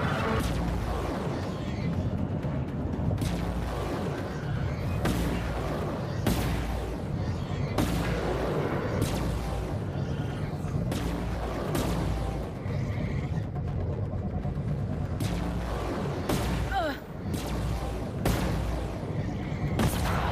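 Weapon fire in the PS5 space-combat game Chorus comes as repeated heavy booming bursts in rapid volleys over a rumbling engine bed, loud and close, with someone talking at times.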